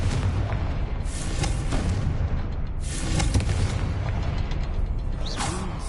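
Confringo blasting spells explode repeatedly in Hogwarts Legacy, loud crackling bursts and mechanical creaks layered over a dense, constant roar of battle noise.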